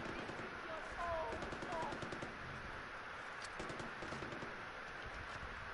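Rapid bursts of automatic gunfire from the video game Far Cry 4 rattle in quick rhythmic runs at moderate volume, mixed with game ambience and a voice talking over it.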